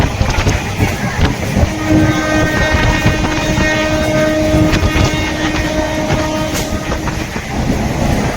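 A Santragachi local train runs along the line near Kolkata with a steady, loud rumble and rhythmic wheel clatter that continues without a break, with no talking.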